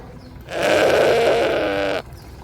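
A goat bleats once, a loud, sustained, wavering call lasting about a second and a half, heard close up and on its own with no talking.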